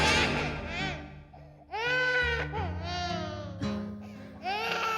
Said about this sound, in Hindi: तुमने एक बच्चे के रोने की आवाज सुनी?